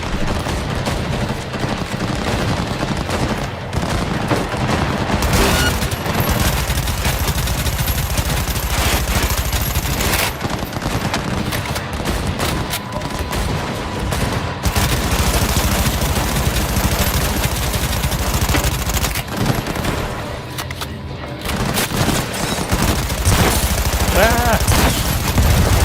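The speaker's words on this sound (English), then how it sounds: "Wait, how'd I pull up my gun?" Gunfire in the video game Cyberpunk 2077: dense, continuous loud shooting with overlapping bursts that keep a constant level throughout, with a busy game soundscape underneath.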